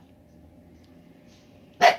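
A dog gives one sharp, loud bark near the end, after a stretch of quiet room tone.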